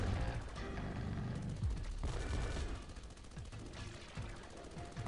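Rapid, dense volleys of cannon-tower fire in a tower defense game on iOS, a continuous barrage of booming shots and impacts layered over busy game effects, loud and sustained throughout with no pauses.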